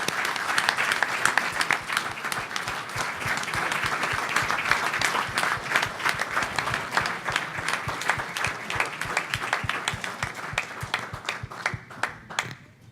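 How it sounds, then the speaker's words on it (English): Audience at an Omega Psi Phi fraternity gathering gives a sustained round of applause, dense clapping steady for about ten seconds before thinning into scattered claps at the end. "Let's give Dr. Clark and these young men another round of applause."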